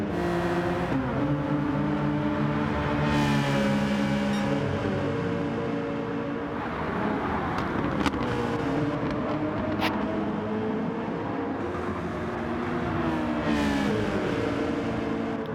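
Super touring race cars in Gran Turismo 7 roar steadily close by, engines revving and shifting pitch as they run nose to tail, with occasional passing whooshes and no talk.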